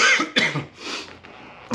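A person coughs twice at close range, two loud raspy bursts followed by a quieter breathy tail.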